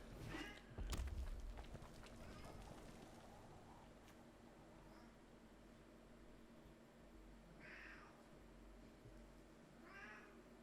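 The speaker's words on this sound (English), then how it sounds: "Don't mind the cat meowing in the background" A house cat meows a few times in the background of an indoor room, faint and distant, its short cries spread out over a steady low hum.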